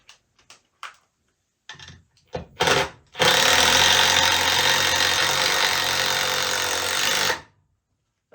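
A Bosch 12-volt impact driver runs in one sustained, loud, close burst of about four seconds, preceded by a few short clicks and brief handling noises.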